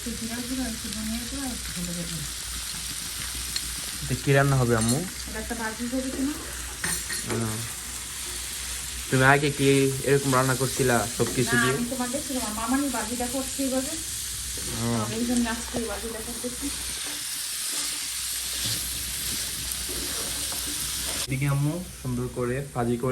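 Onion and garlic frying with salt and chili in a pan, a steady close sizzle running the whole time beneath near-continuous talking.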